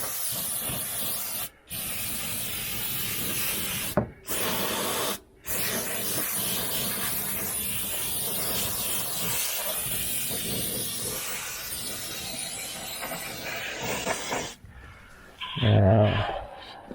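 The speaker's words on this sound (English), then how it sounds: "So we'll just start with spraying here." Rust protection spray is applied to an old rusty truck in loud, close hissing bursts, with brief gaps between sprays and a shorter final burst, and nobody speaks.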